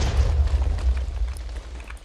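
Dynamite blowing up in Minecraft makes a deep, rumbling boom that rolls on for about two seconds at fairly close range, with no voices.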